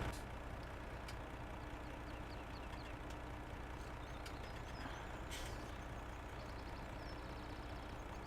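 A trailer offloads in the video game Farming Simulator 17, a faint, steady truck-engine drone with a few brief hisses and clicks over it.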